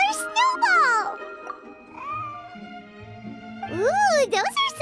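A white, fluffy cat in a video game meows several times, with long drawn-out calls at the start and the end and quieter tonal sounds between them.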